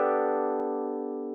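A sustained synth chord from FL Studio for a lo-fi loop, with octave notes stacked side by side, rings steadily and slowly fades, with a brief click partway through.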